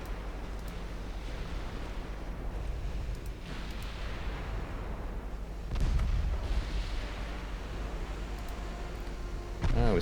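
Torpedo hits exploding against warships in the naval strategy game Ultimate Admiral Dreadnoughts: a steady low battle rumble swells into a heavier booming burst midway and another right at the end, with no talking.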